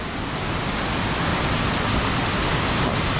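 Steall waterfall in the Scottish Highlands: a dense, steady roar of falling water, loud and unbroken throughout, with no voices.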